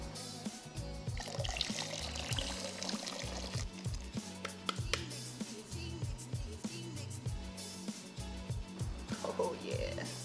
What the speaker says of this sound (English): This is about where I would add that second round of water.